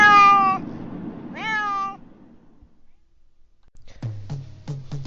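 A cat being groomed lets out two loud, drawn-out meows, then after a quiet pause gives a series of short, clipped cries in quick succession, close by.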